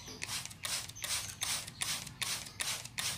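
A handheld spray bottle mists a young magpie robin with a quick series of about seven sharp, hissing spray bursts in a steady rhythm, close up, with no talking.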